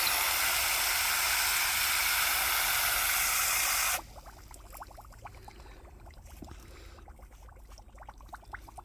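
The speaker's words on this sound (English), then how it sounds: "I'm gonna keep watering this until I see water coming out from the bottom." Water sprays steadily for several seconds onto a standard rose planted in a pot, then stops, leaving soft trickling and scattered drips.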